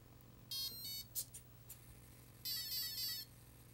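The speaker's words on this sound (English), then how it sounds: "When we plug in the battery pack, it will give the beeps for each setting." A model aircraft electronic speed controller sounds its setting beeps after its battery pack is plugged in: quiet, clipped electronic tone bursts in separate groups over a low background hum.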